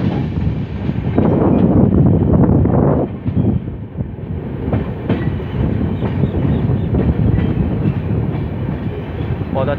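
Padatik Express passenger train rolling along the rails, a loud continuous rumble with rhythmic clatter and some wind noise, heard close up from on board.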